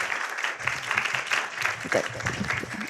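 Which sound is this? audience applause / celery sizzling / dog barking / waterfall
audience applause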